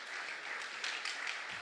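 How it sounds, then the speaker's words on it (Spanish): Audience applause at a missionary conference, a steady wash of many hands clapping at moderate distance, evenly sustained throughout without a break. "Damos un fuerte aplauso para ellos."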